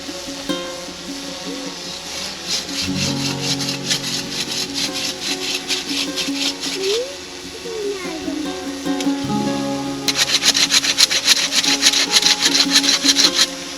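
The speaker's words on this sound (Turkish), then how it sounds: "şu dalı, şu dalı ya da arkaya giden şu dalı şimdi keseceğiz" A hand saw cuts through tree branches with steady back-and-forth rasping strokes, close and loud, speeding up near the end, while people talk in the background.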